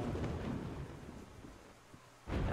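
A faint video-game thunderstorm with lightning rumbles low and steady in the distance, then a sharper, louder thunder crack bursts near the end.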